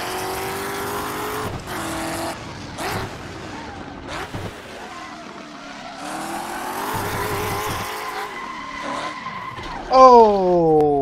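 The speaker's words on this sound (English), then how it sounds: "Watch me trying to blow up the Ford motor." A Ford GT40 engine swapped into a race car in Assetto Corsa revs and strains while the tires squeal and skid repeatedly, with a sharp tonal screech rising near the end over the continuous engine drone.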